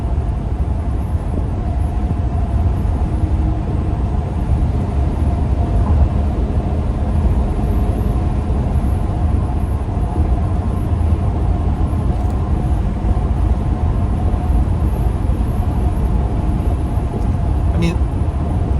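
A Class B RV on a highway at about 70 mph gives a loud, steady cabin drone of road and engine noise with constant low rumble and wind throughout. A voice talks over it.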